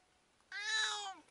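A single loud, drawn-out cat meow, close to the microphone, rising and then falling away, with quiet before and after.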